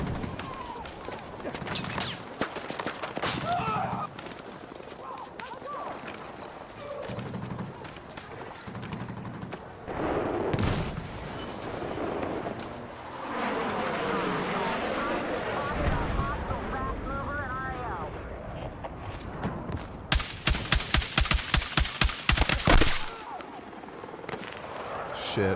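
Video game gunfire: scattered shots and effects, then a rapid burst of automatic fire near the end, mixed with other game sounds.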